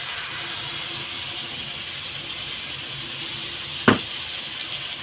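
A paste of garlic, ginger, chili and onion sautéing in a pan for egg curry gives a steady, close sizzling hiss throughout, broken once near the end by a single sharp click.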